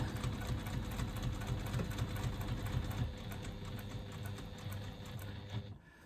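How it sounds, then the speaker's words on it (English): A sewing machine back stitches from the bottom of an internal slip pocket, running in a close, steady mechanical patter with short pauses and stopping near the end, with no talking. "So one back stitch at the bottom to secure, stitching from the bottom of my pocket"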